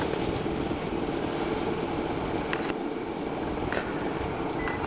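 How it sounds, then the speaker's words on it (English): An ultralight aircraft's engine idles steadily after landing, a continuous close mechanical drone and propeller hum with faint intermittent clicks, holding even throughout. "Now I turn the ignition switch off, stopping the engine."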